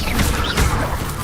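An Expelliarmus disarming spell is cast in Hogwarts Legacy: a quick whoosh that ends in a smacking crash-like impact, loud and brief over busy game noise.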